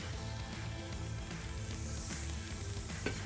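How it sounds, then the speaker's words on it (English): Finely diced shallot frying in oil in a pan, a steady, soft sizzle that holds evenly throughout, quiet and close with a faint clink near the end. "shallot, finely diced shallot, and then that goes into your pan"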